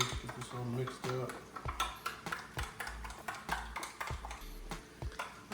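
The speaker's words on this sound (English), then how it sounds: "Spoon here, just get this all mixed up." A spoon scrapes and clinks against a bowl while mixing a seasoned sauce made with black pepper. The taps and scrapes come in quick, irregular bursts close by, with a faint hum in the background.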